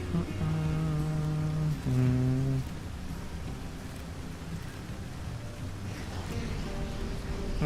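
Steady rain and a low rumbling storm wash through the video game Against the Storm, with a few tonal game sounds sitting on top.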